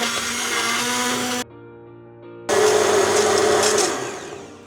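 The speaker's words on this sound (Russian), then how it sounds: "И сейчас это все пропустим через блендер для однородной массы." A kitchen blender purées cooked tomato soup in a loud, steady whir that stops for about a second, then restarts with a strained, shifting motor tone and winds down at the end.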